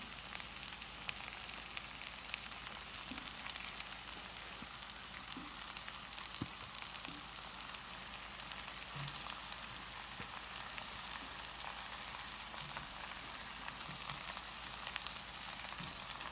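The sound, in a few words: onion frying in pan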